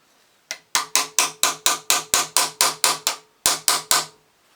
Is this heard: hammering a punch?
yes